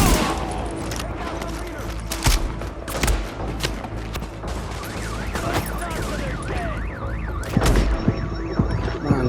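Gunfire rings out in The Division during a live-streamed firefight, sharp loud cracks and bursts scattered over a busy mix of game sounds and music, with a siren-like warble in places.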